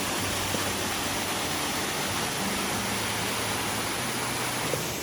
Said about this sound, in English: you can always just come check out the waterfall and then head back